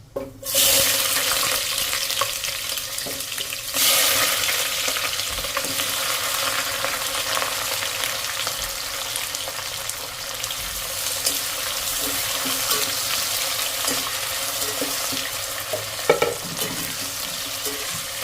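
Chopped onions frying in oil for a mutton and potato curry, a loud continuous sizzle that swells sharply as the onions hit the pan, with occasional stirring clatter and no talking.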